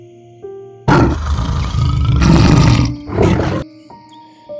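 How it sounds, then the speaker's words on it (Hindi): A lion roars loudly, a long powerful bellow broken into two bursts with a brief dip between, set over soft background music that continues before and after, with no speech. "शेर की दहाड़ को सुनकर कुछ क्षण के लिए खरगोश डर गया"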